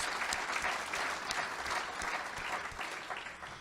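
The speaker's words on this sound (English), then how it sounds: "Let's give all four of those sponsors a round of applause" Guests at an annual charity dinner give a sustained round of applause, a steady even wash of many hands clapping across the room without voices.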